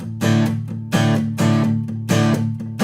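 An acoustic guitar plays a strumming pattern with palm-muted chords, giving dull, thumpy strokes in a steady rhythm with accented strums recurring every second or so, close and clear with no talking.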